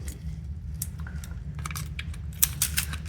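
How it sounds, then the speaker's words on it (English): A knife slices through a wedge of Brie cheese, giving soft, close tapping and scraping contacts against a cutting board that repeat in quick, uneven bursts with no talking. "I'm just gonna cut up some Brie."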